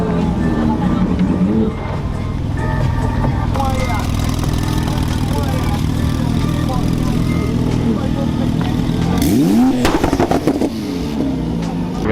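A car engine revving as it warms up at the Carburacoeur 2024 car event: a steady, loud idle with rising and falling revs and a sharp rev burst near the end, under crowd chatter and voices.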